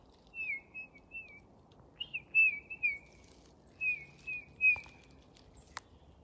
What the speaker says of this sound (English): he's known as a tufted titmouse